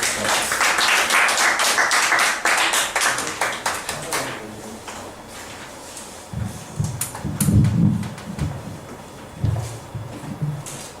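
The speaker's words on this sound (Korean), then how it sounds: "우리 서정성 의원님 큰 박수로 모시겠습니다" An audience at a workshop for newly elected local officials claps to welcome a council member, dense applause for about four seconds that thins to scattered claps, then someone speaks over faint knocks.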